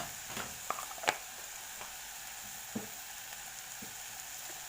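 Onions fry in a pan with chili powder and garlic powder, a steady quiet sizzle broken by a few spoon clicks and scrapes as the mixture is stirred, with no voices.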